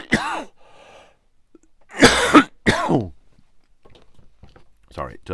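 Coughing fit triggered by laughing: a few harsh, close coughs and throat-clearing bursts in quick succession, separated by quiet breaths, with brief vocal sounds around them.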